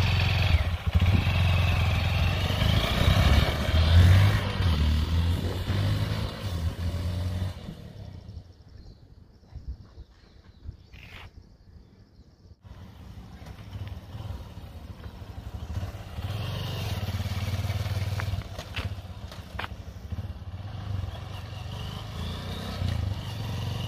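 Honda CRF 150L motorcycle with its stock exhaust, engine running loud and close, dropping briefly quieter midway before rising again to a steady, rough drone.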